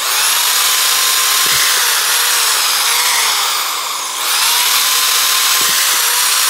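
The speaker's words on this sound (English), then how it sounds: "drilling holes rather than punching them." A power drill whines loudly and steadily at high pitch while drilling holes in leather, briefly slowing near the end before spinning back up; no voices.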